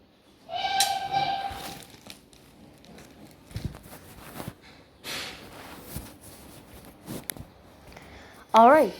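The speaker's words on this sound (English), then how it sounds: "Let me just check the whistles here." A steam locomotive whistle from a video game sounds in short tonal blasts, preceded by a sustained harmonic whistle tone, with scattered clanks and game noises in between.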